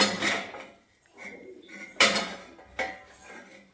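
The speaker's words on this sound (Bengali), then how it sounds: "এখন এটা ঢাকা দিয়ে রেখে দিয়ে" A lid clanks onto a metal cooking pot in a home kitchen, with a few sharp metallic knocks and rattles separated by short quiet gaps.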